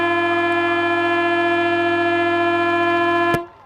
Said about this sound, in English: A long siren here at the WJ Finlay Oval ends the first quarter